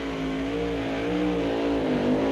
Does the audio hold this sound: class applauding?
no